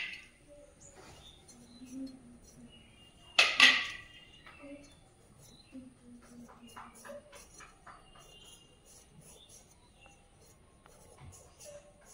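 A knife cutting two large potatoes into pieces for French fries, soft thuds and scrapes on a board with one louder clatter early on, and a voice talking now and then.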